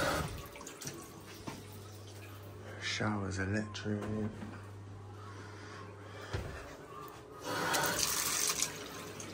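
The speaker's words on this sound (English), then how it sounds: "the tap being run" A tap runs with a steady hiss of flowing water that swells and drops throughout, in a home with an electric shower and a hot water system under inspection. Someone talks over the water.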